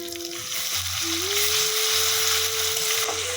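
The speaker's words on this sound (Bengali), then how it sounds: "রসুনটা দেওয়ার পর ছিটছিট করছিল, তো সেজন্য আমি সরে গেলাম আর কি, মানে ছিটকাচ্ছিল আর কি" Garlic and onion sizzle and spatter in hot oil for a Bengali rohu fish curry with yogurt, a steady, close frying hiss with a faint tonal whine underneath.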